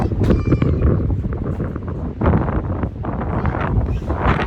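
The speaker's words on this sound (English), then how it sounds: "Lots of wind." Strong wind blows outdoors in a garden, buffeting the microphone with loud, continuous rumbling gusts that swell and ease throughout.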